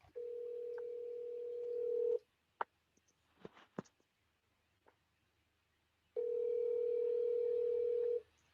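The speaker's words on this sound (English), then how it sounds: "It's ringing. It's ringing. It's a phone call." A phone ringback tone sounds in two long steady bursts separated by a few seconds of quiet with faint clicks, clear and close.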